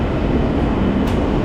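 Shinkansen bullet trains rolling into a platform produce a steady, loud rumble of rail noise with a faint brief squeal near the end, heard alone without speech.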